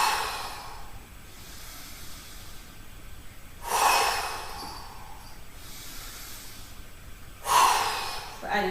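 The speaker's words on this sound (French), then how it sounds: "Sur l'expiration, je viens souffler." Two loud, breathy exhalations blown out through the mouth during a gentle seated whole-body mobility workout, spaced about four seconds apart, with quieter breathing and room noise between them.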